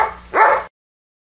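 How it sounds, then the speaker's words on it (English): A dog gives a short bark followed by a sharper, higher yelp, close and clear, lasting well under a second. "Dog."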